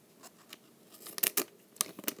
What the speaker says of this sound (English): the cards right here, I usually like to cut along this crease.